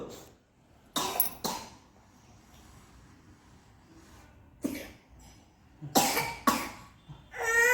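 A person with a fever coughs in several sharp, separate bursts spread across a quiet room, some as quick pairs, close and fairly loud with soft background hiss between.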